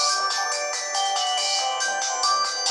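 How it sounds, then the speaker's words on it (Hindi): A mobile phone rings after being triggered remotely through Google Family Link, a bright electronic ringtone pulsing in steady, even repeats, loud and close, with no talk over it. "इस मोबाइल पे रिंग बजना स्टार्ट हो गया है"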